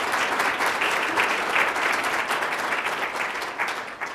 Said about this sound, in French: Je pense que ça mérite une bonne main d'applaudissements.